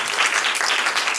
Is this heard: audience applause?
yes